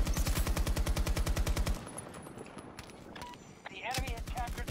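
Rapid automatic gunfire in Battlefield 2042, a fast steady burst up close that stops, then a lull with distant game sounds before another burst starts.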